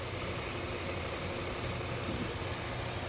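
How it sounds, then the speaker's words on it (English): A Nissan Murano with a blown head gasket idles steadily at close range, a continuous low engine rumble with broadband hiss and no speech over it. "I started the engine already."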